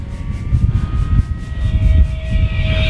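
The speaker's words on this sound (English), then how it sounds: "That prop ripping through the sky is amazing." An E-Flite V1200 RC plane at full throttle makes a loud, rising propeller whine as it passes overhead, over a rumbling outdoor background with no speech.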